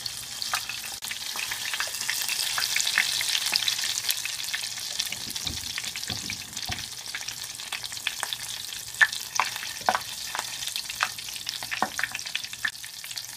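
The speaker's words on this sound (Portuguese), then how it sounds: "Agora a gente coloca no óleo quente para fritar." Battered onion rings fry in hot oil in a small pan with a steady, bright sizzle, joined later by occasional soft clinks and stirring sounds close by.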